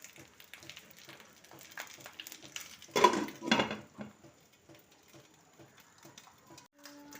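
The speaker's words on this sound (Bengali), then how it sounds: "এবার এটাকে আমি চাপা দিয়ে দেবো।" A lid goes onto a cooking pan while egg kasundi paturi is being made. Two close metallic clanks ring out in the middle of an otherwise quiet kitchen, with faint scraping before and after.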